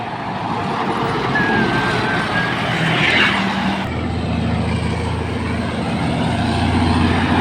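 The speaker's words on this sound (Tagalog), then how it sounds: "Davao Metro Shuttle Bus 21356 bound for Davao City" A Davao Metro Shuttle Bus, number 21356, rumbles past on a road in a steady loud engine roar with low drone and broad road noise, holding fairly constant throughout and close by.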